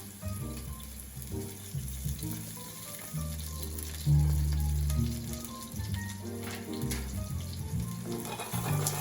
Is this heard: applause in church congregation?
no